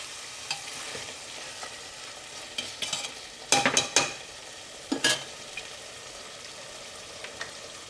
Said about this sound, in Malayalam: നന്നായിട്ട് നോക്കി നമുക്കൊന്ന് ഇളക്കി കൊടുക്കാം